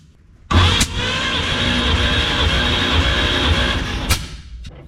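A barn-fresh 1946 Chevy COE truck engine runs steadily, loud and close, with a rough low idle rumble lasting several seconds after a sudden start and a couple of sharp clicks along the way.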